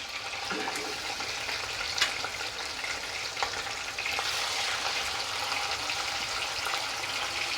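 Bhetki fish pieces fry in mustard oil for a wedding-style kalia, giving a dense, continuous crackling hiss that stays steady and close, with a few small pops and no voices.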